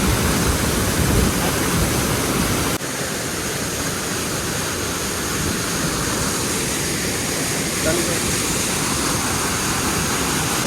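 Oliyappara waterfall in Anaikatti near Coimbatore roars with a loud, steady rush of falling water, a dense unbroken wash of sound close by.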